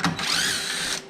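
A power drill runs steadily for about a second, a bright whirring motor tone rising slightly in pitch, close by and fairly loud, with no talk over it.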